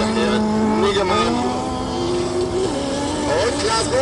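A 2-litre Honda autocross car runs at an autocross event in Gleidorf, its engine clearly revving with shifting, rising and falling pitches, loud and close, while a commentator talks over it.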